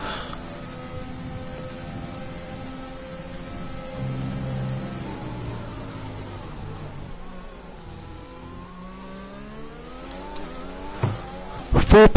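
Race cars circulate a track in Austria, their engines holding steady, whining tones that rise and fall through gear changes, with a louder, sharper burst arriving right at the end.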